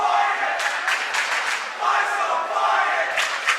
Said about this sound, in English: It's tough to listen to a visiting crowd yell, but they deserve it.